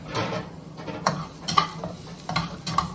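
Shallots sizzling in a hot pan while being stirred, a steady frying crackle broken by several sharper scraping clinks of the utensil against the pan, close and clear with no talk.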